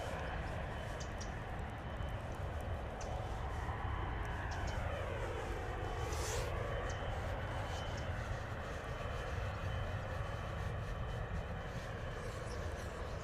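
Emirates Boeing 747 jet engine spooling up at London Stansted Airport, a steady loud roar with a rising then falling whine sweeping through the middle of the sound, continuous throughout.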